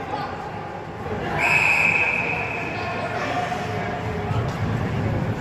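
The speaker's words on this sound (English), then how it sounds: "And we'll get a whistle." A referee's whistle blows during a youth bantam ice hockey game, one sustained shrill tone that rises over the arena crowd and the play-by-play commentary.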